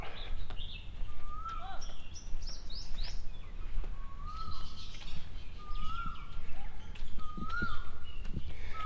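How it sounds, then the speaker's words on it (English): Birds chirp and call outside a small temple, with several clear rising tweets repeating over a steady outdoor background hum, moderately close and alone without talk. "The birds are out."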